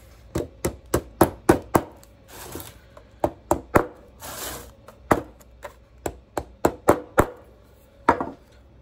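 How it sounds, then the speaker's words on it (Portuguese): A staple gun drives staples into cedar wood, giving a series of sharp, loud impact snaps in irregular bursts of two to four, close by and with no talk. "Nós estamos grampeando num cedrinho."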